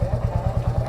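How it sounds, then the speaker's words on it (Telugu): A Royal Enfield Classic 350 motorcycle idles just after a cold start, its single-cylinder engine thumping in a steady, close, low pulse. "సో బైక్ని అయితే కోల్డ్ స్టార్ట్ చేసేసిన."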